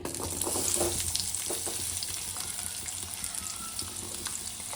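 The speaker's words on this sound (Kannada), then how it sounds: "ಒಣಮೆಣಸಿನ್ಕಾಯಿ ಮತ್ತು ಬೆಳ್ಳುಳ್ಳಿ ಹಾಕ್ಕೊಂಡು ಫ್ರೈ ಮಾಡ್ಕೊಳ್ಳಿ ಸ್ವಲ್ಪ ಹೊತ್ತು" Onion, dried red chilli and garlic frying in oil in a kadai, a steady close sizzle with crackling pops and a few stirring scrapes, fairly quiet and with no voices.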